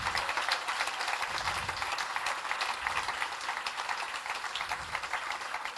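A seated audience at a talk gives steady, moderate applause for the speaker. Dense clapping carries on evenly throughout without a clear peak, heard from a little distance.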